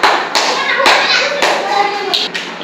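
A class of fourth-grade school students claps loudly and steadily together for about three seconds, close and dense, with no talk over it.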